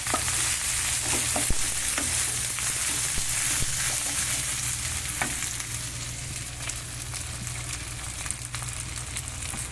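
Cooked rice mixed with sesame and moong dal powder being stirred in a hot frying pan, a steady close sizzle with repeated scraping and clinking strokes of the spoon, no voices.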